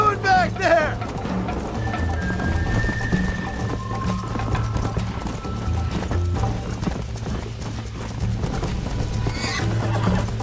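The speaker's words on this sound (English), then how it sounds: "You're gonna wear that horse out!" Hooves clip-clop rapidly as a horse gallops in the Red Dead Redemption video game, with a loud whinny near the start and voices speaking over the steady hoofbeats.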